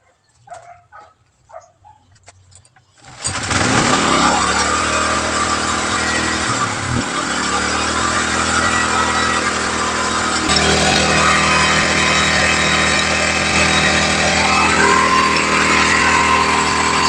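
A repaired single-piston gasoline engine starts after a few seconds of quiet handling noises, then runs loud and close with a steady, continuous rattling drone. Its pitch rises slightly partway through.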